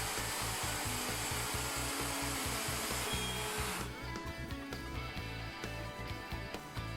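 A router with a Leigh FMT mortise and tenon jig cuts a mortise along a wood workpiece, a loud continuous whining roar with rhythmic low pulsing, easing slightly partway through, close and steady without speech.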